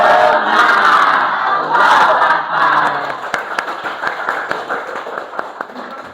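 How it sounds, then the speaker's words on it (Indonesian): Indonesian vocational school students perform a rhythmic spirit clap, a loud crowd cheer giving way to a run of sharp, quickening claps. "Tepuk semangat."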